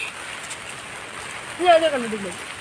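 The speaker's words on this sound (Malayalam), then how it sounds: "നല്ല മഴയുണ്ട്" Heavy rain pours down in a steady, hissing roar, and a voice briefly cries out over it.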